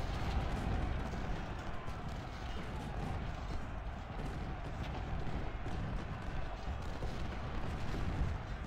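Continuous heavy rumbling booms of cannon fire in a Civil War battle in the game Ultimate General: Civil War, dense and steady throughout with no pauses.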